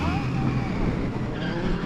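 A Subaru WRX drifting at a drift event, its engine roaring steadily with a tire-squeal edge for about two seconds; voices talk over it.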